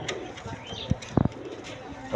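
Red pigeons kept with their chicks on a farm coo nearby, giving a few short, low throaty bursts over a soft background with other faint bird sounds.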